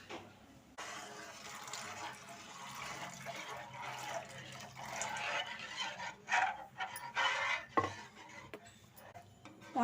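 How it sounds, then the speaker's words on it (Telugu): A cornflour and water mixture for ghee halwa is stirred in a pan over low heat, with a soft, wet slushing and scraping that rises and falls at close range. "ఉండలు కట్టకుండా బాగా కలబెట్టుకోవాలి."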